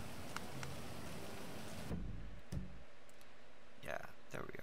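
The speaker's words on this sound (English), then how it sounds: "It's raining." Rain in the video game GTA 5: steady rain hiss fills the first half, then cuts off abruptly, leaving quieter scattered clicks and drops with brief noises later.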